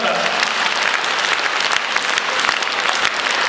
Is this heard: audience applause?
yes